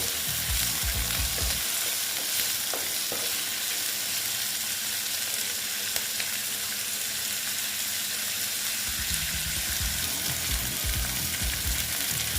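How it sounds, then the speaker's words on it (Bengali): Potatoes fry together with onions in a pan for a besan bhindi dish, a continuous loud crackling sizzle with occasional stirring scrapes at the start and end. "আলুটা পেঁয়াজের সঙ্গে ভাজা হয়ে যাবে"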